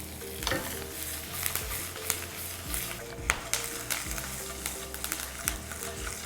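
Tadka tempering with ginger, green chilli and curry leaves sizzles steadily in hot oil for a millet dip, with crackling pops and a few sharp clinks of a spoon against the pan, close and moderately loud with no talk.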